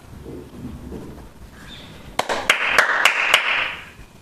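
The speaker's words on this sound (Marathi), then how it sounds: "आता पुन्हा 5 टाळ्या वाजवल्या" Five sharp hand claps ring out in an even, steady rhythm, close and crisp, after a few seconds of quiet background with faint murmuring.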